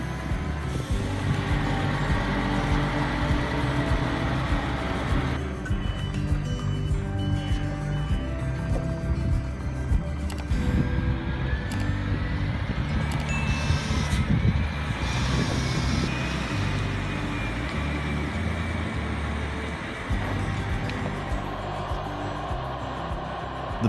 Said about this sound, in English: With a powerful engine and impressive horsepower, this truck easily handles the massive load, overcoming all kinds of difficult terrain.